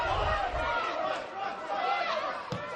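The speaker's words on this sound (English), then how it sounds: "The crowd getting into this now, asking players to drive forward" Spectators at a women's National Premier League Victoria soccer match, FV Emerging against Boroondara-Carey Eagles, keep up a steady shouting and chatter of encouragement, a continuous crowd roar from the stands.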